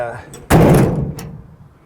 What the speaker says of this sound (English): I'm gonna shut this door though.